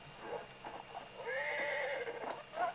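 A wild horse being tamed in the video game Red Dead Online gives a couple of loud, close whinnies and neighs, with some hoof clopping in between and no voices.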